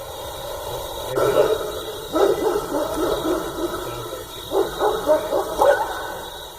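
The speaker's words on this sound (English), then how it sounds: "That sounded like the dog yelp, like she was talking about when he got hit." A dog's yelps and whimpering barks play back from a recording, several short bursts in two clusters, moderately loud against a steady hum of background noise.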